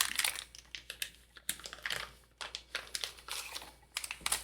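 Packing paper from an E.T. model kit pack crinkled and rustled by hand in irregular bursts, close and moderately quiet.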